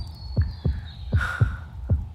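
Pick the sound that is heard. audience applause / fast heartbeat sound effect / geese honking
fast heartbeat sound effect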